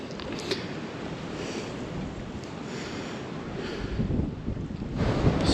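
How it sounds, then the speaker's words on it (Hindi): Strong wind sweeps across a barren, high-altitude trail to Gaumukh near the Gangotri Glacier, blowing dust; it makes a steady, dense roar that buffets the microphone and swells toward the end, with no one talking. "हवा चल रही है बहुत तेज"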